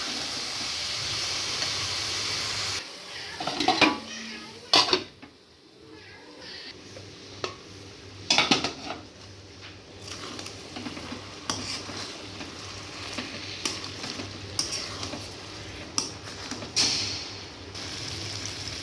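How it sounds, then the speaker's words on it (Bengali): Eggplant sautéing in a pot of mixed vegetable mutton curry, with close, loud, irregular scrapes and knocks of a spoon stirring against the pot over a steady low sizzle. "বেগুনটা দিয়ে আর একটু কষিয়ে নেব"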